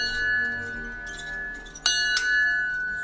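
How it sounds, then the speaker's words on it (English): A bell at an old outdoor site in Slovenia rings out with a steady sustained tone, then two bright strikes land close together near the end, each leaving a shimmering ring. "After ringing the bell, I started to feel hungry"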